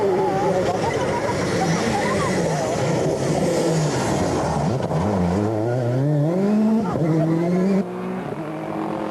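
A Citroën Xsara rally car tackles a wet stage at the Ypres rally in 2000, its engine roaring and revving through gear changes continuously, with a commentator talking over the noise.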